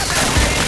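A dense, continuous burst of rapid gunfire from Call of Duty 4 with the SuperSpeed mod, a video game, loud and unbroken throughout.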